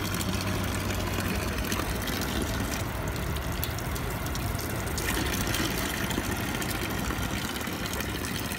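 Continuous splashing gush of spring water pouring steadily from a dragon spout in Inagi, Japan, close and unbroken throughout.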